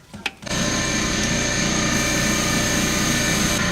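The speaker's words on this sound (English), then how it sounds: "Let me turn off the compressor." An air compressor starts up after a brief knock and then runs loud and steady at close range, a continuous droning motor with a buzzing hum.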